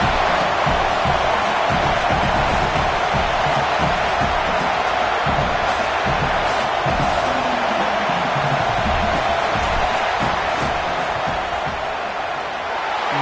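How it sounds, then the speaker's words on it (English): Stadium crowd roar in College Football 25 as a kicker lines up a fourth-down field goal in the third quarter, a dense, steady wall of noise filling the whole clip with scattered whoops and rumbles and no talk over it. "This crowd trying to do its part to get inside the kicker's head"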